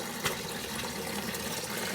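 Water flows steadily out of an external siphon draining a grow bed, a continuous close trickling gush with light splashing and no voices.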